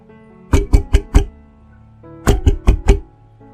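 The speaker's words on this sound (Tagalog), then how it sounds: "Tunog ng katok mula sa pinto" Two bursts of four sharp knocks on a wooden door, separated by a brief pause, loud and close with no talking.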